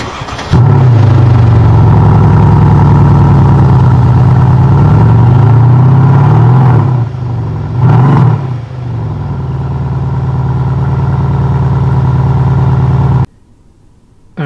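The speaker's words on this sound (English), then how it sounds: "We're gonna see what this car sounds like with the engine on." A Mercedes E63s AMG engine runs loud and steady close by, a deep rumble with a couple of brief blips partway through before cutting off near the end; no one speaks.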